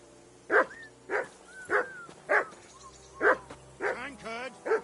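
A dog in the medieval game Kingdom Come: Deliverance II barks repeatedly, about six loud close barks at a steady pace, with faint speech underneath and a whimpering yip near the end.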